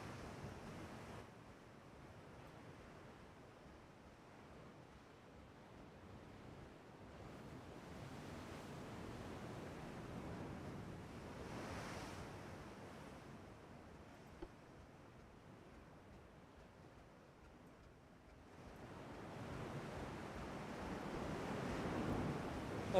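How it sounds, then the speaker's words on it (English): Ocean waves in the Ultimate Admiral Dreadnoughts naval game roll and wash in a steady broad roar with gusty wind, rising and falling in swells and growing louder toward the end, with no voices. "I feel like the ocean sounds way too loud."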